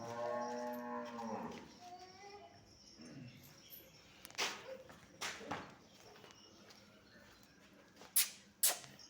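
A freshly calved dairy cow for sale moos with a long, loud, tonal call at the start. Faint rustling and a few sharp knocks follow.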